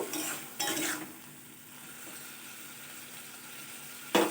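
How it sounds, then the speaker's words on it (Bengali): Mustard paste thinned with water being stirred and fried in a pan for a Bengali drumstick (sajne data) chachchari, with short bursts of scraping and sizzle near the start and end over a faint steady simmer. "পেস্ট করে রাখা সর্ষেটা একটু জলে গুলে এবার ভালো করে নাড়াচাড়া দিয়ে একটু কষিয়ে নেব"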